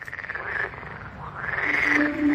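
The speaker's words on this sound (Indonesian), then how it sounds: "telingaku mulai dipenuhi suara-suara binatang khas persawahan, terutama gegap gempita katak yang bersautan" Frogs croak back and forth in rice fields at night, a chorus of rhythmic, pulsing calls rising and falling, with one nearer caller growing louder toward the end.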